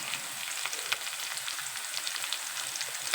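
Chopped tomato fried in a pan with turmeric, garam masala and chilli powder, a bright, dense crackling sizzle that holds steady throughout with small stirring pops.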